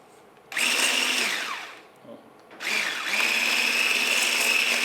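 An electric mixer whisks eggs and sugar for a chocolate fondant, whirring loudly in two long runs separated by a brief pause, with its pitch dipping and then settling.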